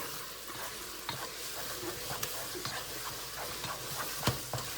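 Cream puff dough is stirred in a hot pot with a constant low sizzle, broken by irregular scraping and knocking strokes of the spoon. No voices are heard.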